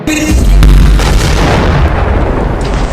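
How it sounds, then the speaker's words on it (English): A heavy, booming explosion with a deep low rumble and crackling debris, loud and close, sustained for a few seconds. "the full video had the usual explosion sound"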